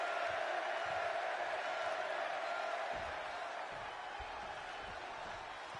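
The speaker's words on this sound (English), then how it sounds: "And just listen to this crowd here in Chicago." Arena crowd cheering in the WWE 2K26 wrestling video game at a Chicago event, a dense steady roar of many voices that holds throughout at moderate level, with faint commentary underneath.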